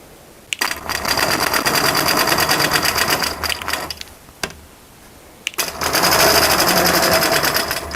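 A sewing machine quilting around sashing and into a log cabin block runs in a steady fast rattling stitch, stops briefly twice, then starts again, close and loud with no talking.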